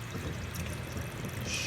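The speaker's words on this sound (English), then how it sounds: "strain it off." Water poured off a large batch of washed rice to strain it, a steady close trickling pour running throughout with a brighter splash near the end.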